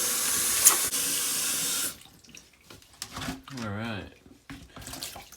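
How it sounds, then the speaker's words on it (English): Hot tap water runs loudly over rocks being rinsed, a steady rush that cuts off after about two seconds, followed by someone speaking briefly with quieter handling sounds. "I'm gonna rinse these off a little with some hot water."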